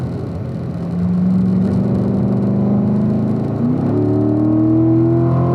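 A car accelerates on a racetrack under throttle, its engine note climbing steadily and loud over several seconds, shifting to a new rising pitch partway through as the revs build.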